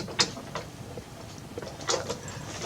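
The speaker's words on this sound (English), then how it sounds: "we're going to turn the hand wheel so the needle goes all the way down and then all the way up again as far as it can go" A sewing machine's hand wheel is turned by hand, driving the needle down and back up with soft ticking, gear-like clicks and a small clack, all quiet and close.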